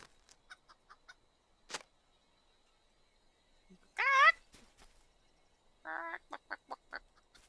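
Chickens in a video game give short clucks and squawks, with a loud burst partway through and a quick run of clucks near the end, over a mostly quiet background.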